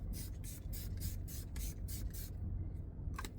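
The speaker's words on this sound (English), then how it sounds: "I went back and just got an Essence setting spray just to try" Essence makeup setting spray misted in a run of about eight short, hissing bursts, close and fairly loud, followed by a pause and a faint click.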